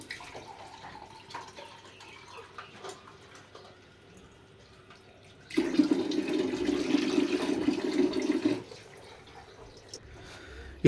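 Three glasses of water poured into a pot of beef with salt and turmeric for korma, a steady rushing pour of about three seconds midway, otherwise quiet kitchen background.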